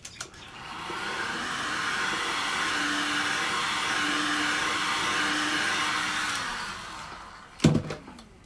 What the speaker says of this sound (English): be very careful of the end of the heat gun